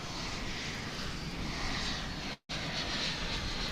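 Airbus A319 airliner at DFW International Airport, a steady broadband engine roar held at an even level throughout with one brief dropout partway, no talk over it.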